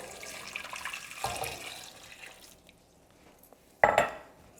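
Running water pours briefly into a metal saucepan holding onion, a quieter trickle follows, then a louder splash of water near the end.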